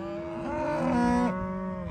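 Cattle low in an upstate New York pasture, a single drawn-out moo rising and bending over about a second before fading, loud and close with no talk over it.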